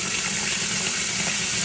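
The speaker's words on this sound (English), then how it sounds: "I'm just adding, it's the ends of this bottle, some soapy water." Soapy water from the last of a bottle pours into a pot of yarn dye, a close, loud, steady splashing rush of liquid that runs without a break, with no voices over it.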